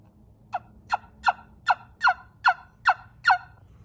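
A run of eight evenly paced turkey yelps from a Ted Peters trumpet yelper call, close and fairly loud, each note rising and falling in a steady rhythm.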